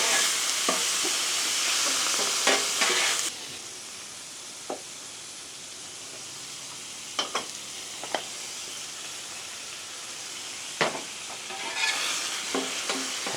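Bacon jam cooking on a griddle as Hennessy and other wet ingredients go in, with a loud sizzle that drops to a quieter hiss, then sporadic sharp scraping clicks from the spatula before the sizzle rises again.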